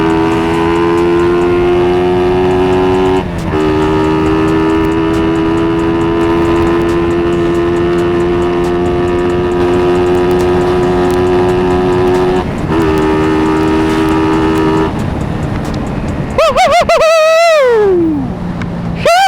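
A Suzuki Raider 150 Fi motorcycle riding, its engine droning loud and steady with a strong tonal whine that holds, dips briefly during shifts, then rises sharply and drops near the end.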